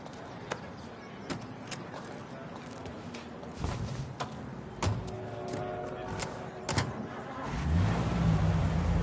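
A car engine in Mafia Definitive Edition starts and drives through the streets, a steady mid-pitched hum with faint ambient city noise that swells into a louder, rising rev near the end.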